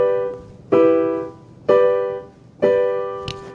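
A chord progression for a song chorus, played alone as three evenly spaced struck chords that ring and decay between hits, with a brief bright click near the end.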